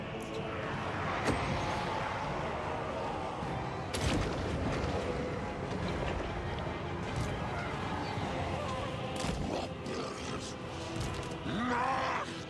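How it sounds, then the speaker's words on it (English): Cannon artillery fire booms in the Total War: Warhammer 3 battle, a few heavy blasts standing out over a dense, continuous roar of fighting, with talk running through it. "These guys are going to get shot by the cannon, aren't they?"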